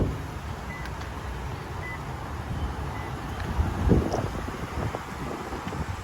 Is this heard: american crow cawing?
no